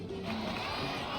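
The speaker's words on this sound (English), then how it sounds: "Let's give a huge round of applause to our brave young warrior, Kachina!" Video game crowd from Genshin Impact cheering and shouting together in a short, dense burst of excited voices.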